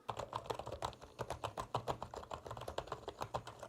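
Soft, rapid typing on a quiet gaming keyboard, a steady stream of muted key clicks at close range with no voices.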